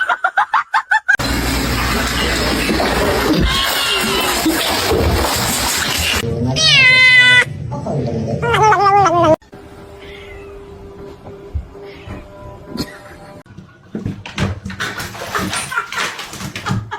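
A kitten meows in a few short, rising cries that emerge from a loud, cluttered stretch of household noise, with people talking nearby.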